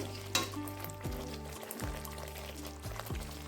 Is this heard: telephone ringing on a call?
no